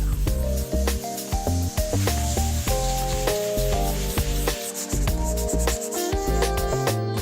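A natural sponge soaked in wood stain is rubbed rapidly and steadily across a wooden surface, giving a continuous close wet swishing and scrubbing sound under light background music.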